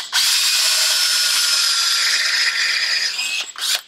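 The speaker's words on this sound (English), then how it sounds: "So I put two screws on each side piece that fits in between the end caps." A power screwdriver drives a screw into a melamine mold for resin casting, one sustained, loud whirring run lasting about three seconds, then a short second burst.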